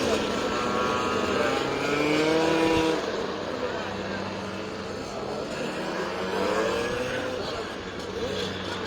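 Stock cars in a Supers race at Croft circuit roll out behind the pace car in wet conditions, a steady engine drone with rising and falling pitch sweeps as cars pass, heard under continuous commentary.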